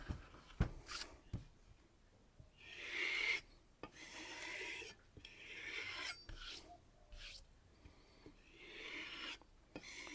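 Knife blade honed on a Tormek sharpener's kangaroo tail leather strop, close rasping strokes in repeated back-and-forth bursts with short pauses between, no talking.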